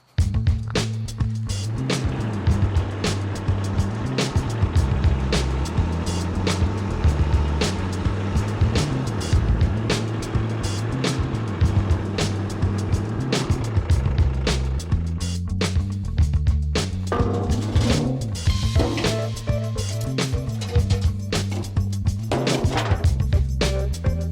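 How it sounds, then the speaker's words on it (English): A Kubota B2601 compact tractor engine runs steadily and loudly throughout, a continuous throbbing motor drone with rattling mechanical noise on top. "It's time for the tractor."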